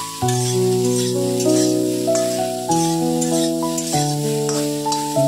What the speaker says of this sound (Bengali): সয়াবিনটা জাস্ট একটু হালকা করে একটু নুন দিয়ে পরিমাণ অল্প একটু নুন দিয়ে ভেজে নেব